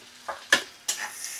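Raisins and prawns being stirred in a frying pan over a low flame, three short scraping stirs over a soft, steady frying hiss, close by with no voices.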